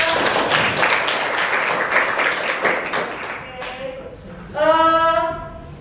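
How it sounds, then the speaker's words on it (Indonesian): Classmates give a short burst of clapping for a student presenter, a busy scatter of hand claps for about three seconds that thins out before a voice begins talking. "Tepuk tangan buat Devanida."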